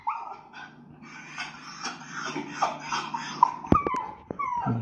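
A Schnauzer barks and whimpers: high whiny yelps and whines build into a few sharp, loud barks near the end, close by.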